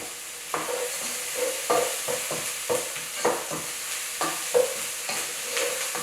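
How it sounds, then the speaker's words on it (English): Chopped onion sweats in a pan with about a tablespoon of salt. A steady sizzle runs throughout, broken by repeated stirring scrapes and taps of a utensil against the pan. "This is to help the onion to sweat a little bit."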